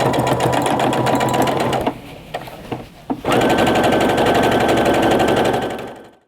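A sewing machine stitches a French seam on a pillowcase, running loud and steady, pausing briefly with a few clicks, then starting again at full speed before stopping.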